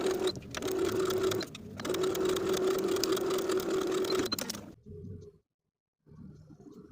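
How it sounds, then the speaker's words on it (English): A sewing machine stitches a center back panel to a peplum in two long, loud, steady runs broken by a short pause, then stops and leaves quieter handling sounds. "Now we can sew the center back panel to the back peplum from one side to the other"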